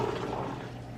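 Water running over cooked black beans during rinsing, a brief close steady gush of flowing liquid with no talk.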